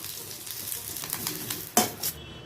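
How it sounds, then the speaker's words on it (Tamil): Curry leaves fry in a hot pan while idli podi is being made, giving a steady crackling sizzle with a sharp pop or clatter near the end, close and fairly quiet, with no talk. "கொஞ்சம் கருவேப்பிலை வறுத்துக்கிறேன்."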